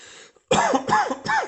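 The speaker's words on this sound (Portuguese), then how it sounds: "Desculpa pela minha tosse." A man coughs three times in quick succession, close and loud, with a short rough hacking rhythm after a brief silent pause.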